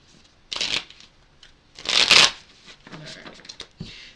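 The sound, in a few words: shuffling oracle cards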